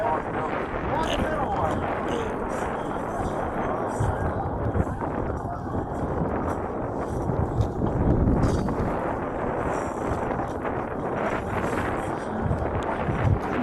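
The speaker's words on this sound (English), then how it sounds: "That wind is getting fierce." Strong, steady wind roars across an open outdoor site, buffeting the microphone in broadband gusts as it kicks up dirt and dust, with louder surges every few seconds and no quieter breaks.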